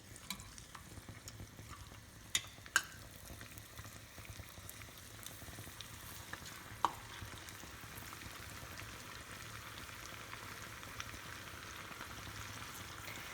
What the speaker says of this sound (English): After your oil is starting to get hot, you can start frying your chicken.